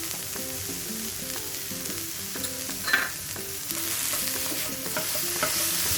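Chicken sizzles in a pan as it is stirred with pepper powder, oregano, chili flakes and salt for a chicken salad. A steady, close frying hiss with spoon scrapes and clinks runs over soft background music.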